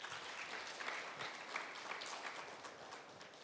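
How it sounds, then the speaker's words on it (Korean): An audience at an academic conference on sports heritage at the National Sports Museum applauds the presenters, with steady, fairly faint clapping that continues for a few seconds. "발표와 토론을 담당해 주신 김경표 학예연구사님과 국성화 교수님께 박수 부탁드립니다."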